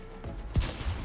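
A single shot in the shooter game Division 2, a short low thump with a burst of noise, standing out once over continuous game background sound.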